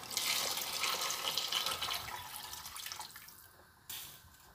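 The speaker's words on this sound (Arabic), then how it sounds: "دابا غنزيدو الماء" Water pours into a pan of spices fried for Moroccan rfissa, a soft splashing stream that tapers off and stops, followed by a brief faint splash. Faint and close, with no talking.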